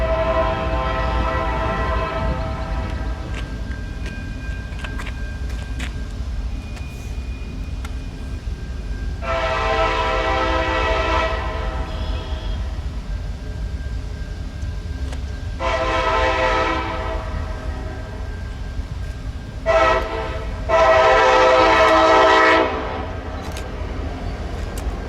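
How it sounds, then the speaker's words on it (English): CSX B535 freight train rushes through Gary's Pine Junction with a MAC locomotive leading, sounding several long horn blasts in the standard crossing pattern over a constant rumble of wheels and cars, no voices. "CSX B535 to rush by with a mace in the lead"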